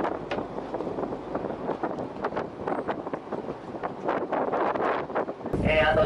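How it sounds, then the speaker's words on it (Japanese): A south wind blows across a fishing boat offshore in Sagami Bay, making steady, loud buffeting rumble on the microphone throughout, with a brief change near the end. "南風が吹いてきました。"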